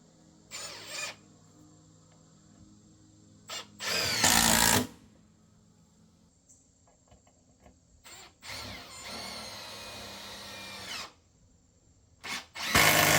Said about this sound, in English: I'm really hating the idea of drilling holes into this patio.